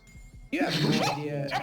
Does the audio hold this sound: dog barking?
yes